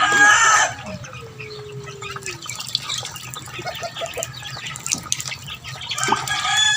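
A chicken being bathed, with water drips and splashes alongside clucks and a loud crow at the start and again near the end, close by.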